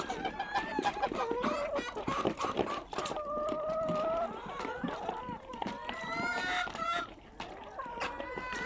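Chickens cluck and squawk close by during poultry feeding, with busy overlapping calls and some goose-like honks over scuffling movement. A person talks and laughs underneath.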